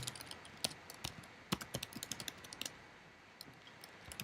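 Keywords typed on a computer keyboard, a quiet run of irregular key clicks with short bursts and pauses, close and alone without speech.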